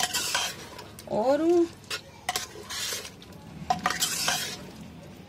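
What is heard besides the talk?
stirring chicken korma in a pot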